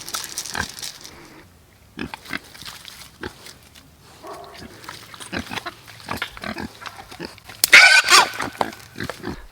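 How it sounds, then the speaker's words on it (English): A pig squeals sharply after touching an electric fence, a loud burst near the end following scattered grunts and movement noises around a farm pen. "you definitely probably just heard the pig squeal"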